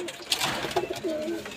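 Soft, low cooing from Teddy and Rampuri pigeons repeats a few times close by, with light background rustle between them.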